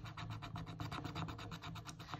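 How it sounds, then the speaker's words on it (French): A scratch-off sticker is rubbed with quick, even strokes, a close, dry rasping that repeats in a steady rhythm of about seven scrapes per second, alone and fairly quiet. "Je vais déjà gratter celle-ci"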